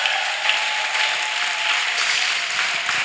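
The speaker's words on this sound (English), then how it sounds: "Clap for Jesus Christ." Dense applause from a congregation at a spiritual training service, many hands clapping together in a loud, even roar that holds steady throughout without pause.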